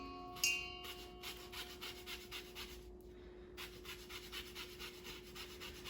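A lemon being zested with a hand zester, making steady, repeated raspy scraping strokes in quick rhythmic bursts with a brief pause midway, fairly faint and close, with no talking.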